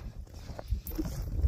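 Horses walking outdoors in bitter winter cold, hooves giving soft, faint clip-clops over a low rumble of background noise, with no talking.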